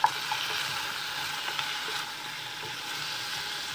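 Minced garlic and pork frying together in a hot pan, a steady, close sizzle with a few stirring clicks and no talk.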